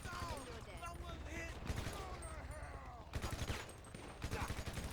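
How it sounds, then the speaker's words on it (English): Gunfire in the GTA Online video game crackles in rapid bursts and fusillades, with sharp repeated shots clustered through the clip over a busy game soundscape, while a player talks intermittently. "I'm gonna shoot this woman myself."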